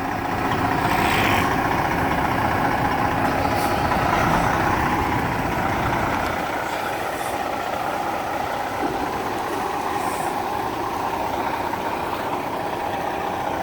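A semi truck with trailer maneuvering while backing into a 90 degree angle for a CDL A skills test in Michigan, its heavy diesel engine idling and rumbling steadily and fairly close throughout, the low drone easing slightly after the first few seconds.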